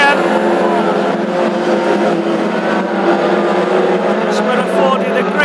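Hot rod racing cars at the Ipswich track, engines snarling at high revs in a continuous loud drone as they race down the straight, with commentary talking over the top.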